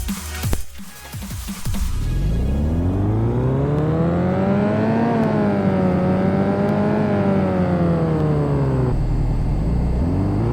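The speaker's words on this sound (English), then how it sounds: "now we're going to put it through another dyno test" A Porsche engine in the Car Mechanic Simulator game revs steadily on a dyno, its tone climbing, holding high and easing off in one loud, continuous run after a brief clattery start.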